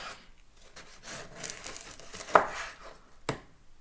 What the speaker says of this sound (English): thing I would recommend doing is cutting your bread